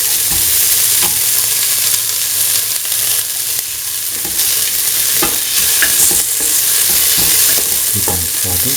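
Onions sautéing in a pan for a kidney bean and snake gourd stew: a steady, close hiss of frying with occasional scrapes and clinks of stirring throughout, no voices.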